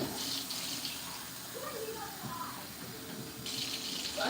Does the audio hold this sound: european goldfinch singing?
no